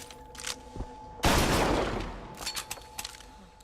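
A single loud blast from the Heater, a shotgun-like weapon in Bioshock Infinite, a close boom with a long fading tail, followed by a few softer clicks and thuds.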